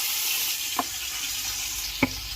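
Chicken frying in a pan with turmeric and curry, a steady, even hiss of sizzling oil broken by two brief stirring knocks, close and fairly quiet.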